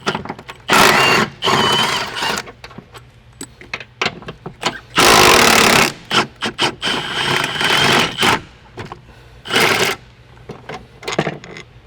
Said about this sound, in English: Now we can go ahead and remove the upper shock bolts with a 16 millimeter socket.